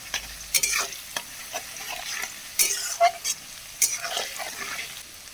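Crushed garlic goes into lightly fried onions for a homestyle Sunday chicken curry. Several close spoon scrapes and clinks sound against a faint, soft sizzle, with short pauses between the strokes and no voices.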